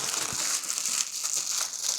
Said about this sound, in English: Remove the seat and peel off the seat covering